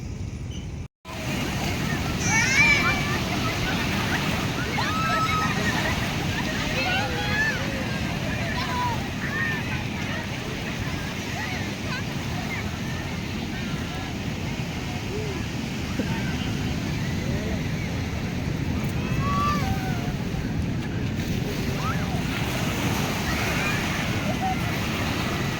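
Surf rolls steadily onto Sayang Heulang beach on the south coast of West Java, heard from the front of a seaside lodge as a continuous broad wash of waves, with some wind noise.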